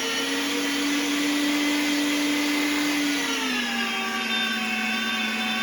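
Meat grinder working through chuck, round, short ribs and steak, a loud continuous motor whine that holds steady and then drops slightly in pitch partway through, with no talking.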